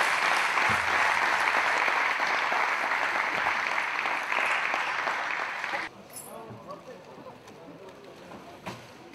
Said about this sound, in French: On peut applaudir les gardiens de but.